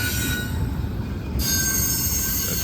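A Norfolk Southern train passes close by on the Charlotte District at Gaffney, South Carolina, with loud, sustained high-pitched wheel squeal over a steady rumble of rolling stock, the squeal tones shifting partway through.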